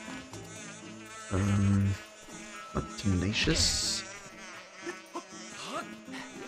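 Wasp buzzing in Skyward Sword HD (2021, Switch), a droning insect hum that swells loudly for about a second and recurs in shorter bursts amid game effects, with a player talking over it.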